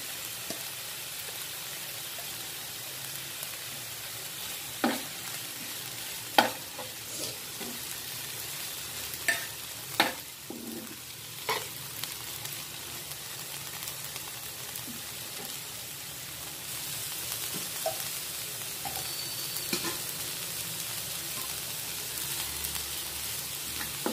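Carrot and tomato fry gently in a pan for an oats omelette, making a soft, continuous sizzle. Occasional spatula scrapes and taps cut through the sizzle at irregular intervals, and no one talks.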